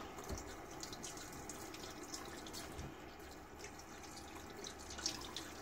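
A razor handle, a Karve Christopher Bradley safety razor, is rinsed under a running tap, with a faint, steady trickle of water and light drips at a quiet level and no talking.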